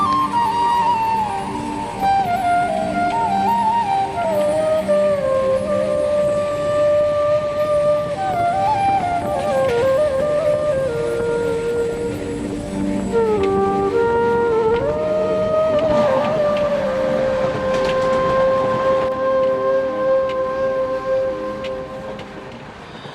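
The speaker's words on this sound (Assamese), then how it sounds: "আমাৰ ট্ৰেইনটো আকৌ ষ্টাৰ্ট হৈ গ'ল সন্মুখত যোৱাৰ কাৰণে" A passenger train in Bihar pulling away again after a stop mid-route, with a loud continuous rumble and a long wavering horn-like tone sliding in pitch across the stretch.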